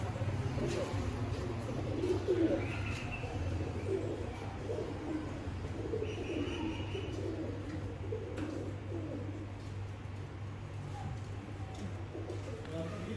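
Soft, low cooing of Imam Deen breed pigeons repeats throughout over a steady background hum, with people talking nearby.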